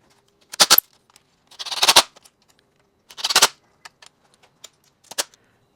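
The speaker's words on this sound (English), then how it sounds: "And I'm just going to zip these up." Four quick ratcheting zips of cable ties being fastened during a Kia/Hyundai V6 engine assembly, each a short burst of clicks, close and distinct, separated by silence and a few faint ticks.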